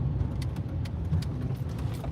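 A car rolls by close behind, a steady low engine and tyre rumble with faint higher noise above, heard alone without talk.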